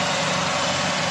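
A boxy Toyota Starlet's engine idles steadily up close, a loud, even mechanical hum with a low rumble and no voices over it.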